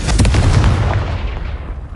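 A single Confringo fire spell explodes in Hogwarts Legacy with a loud, close, broadband blast that rumbles heavily in the low end and fades over about two seconds.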